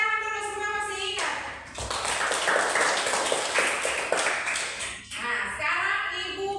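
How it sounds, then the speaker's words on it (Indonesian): Schoolchildren in a classroom break into a burst of hand clapping for a few seconds, bracketed by a speaking voice before and after. "Oke, tepuk tangan dulu, semua masih ingat."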